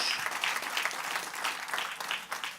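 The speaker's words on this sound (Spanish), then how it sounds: "Den un aplauso fuerte a nuestro gran Dios." A church congregation breaks into strong, sustained applause during a sermon, with dense, even clapping from many people filling the room and no voices over it.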